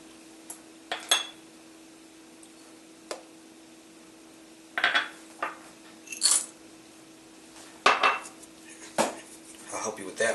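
Chocolate, brown sugar and freshly brewed coffee go into a mixing bowl in a home kitchen, heard as scattered light clinks and knocks of utensils against dishes, a few sharper clatters spaced between quiet gaps.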